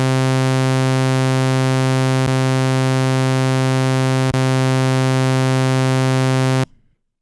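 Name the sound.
Doepfer VCO sawtooth wave synth tone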